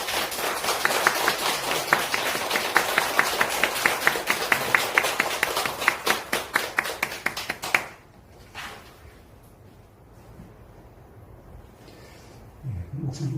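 A church congregation at a revival service applauds its pastor with brisk, rhythmic group clapping for several seconds. The applause then cuts off into a quiet, hushed room with faint shuffling.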